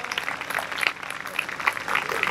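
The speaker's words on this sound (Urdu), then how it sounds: "آئیں زوردار تالیاں" Applause for guests at a church convention, scattered claps and crowd noise rising and falling at moderate volume, mixed with a faint voice in the background.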